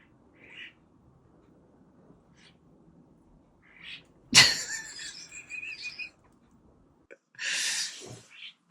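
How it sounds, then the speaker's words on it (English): Blackbirds fight in the house gutters, giving scattered harsh chirps and squawks, with one sudden loud burst followed by a later raspy flurry, all against near silence. "Oh, those blackbirds in the gutters."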